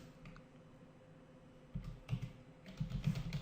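Quiet keystrokes on a computer keyboard come as short bursts of soft taps in the second half, fairly close but low in level.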